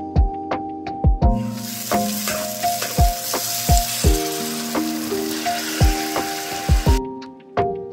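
A fish dish fries in a pan with a steady hissing sizzle that swells in and then cuts off near the end, set against rhythmic tonal music with sharp plucked hits.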